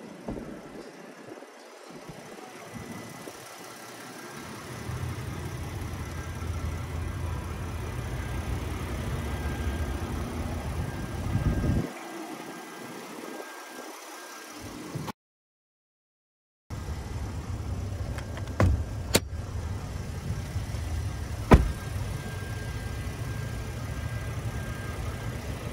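A 3.8-liter naturally aspirated V6 in a 2022 Nissan Frontier S runs steadily at close range, a low continuous engine drone with a brief dropout partway through and a few small clicks near the end.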